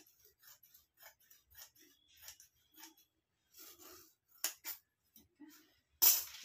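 Scissors snipping through fabric while a saree blouse is cut, a series of short, crisp clicks in an uneven rhythm, close and fairly quiet, ending in a louder snip.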